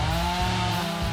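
A chainsaw runs steadily during logging work, a continuous close buzzing whine with slight pitch wavering and no voices over it.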